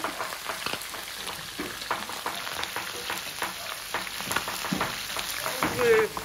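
Onions sizzling and frying in oil in a pan for a Réunion Creole dish, a steady close crackle with occasional stirring clicks, while people talk in French over it.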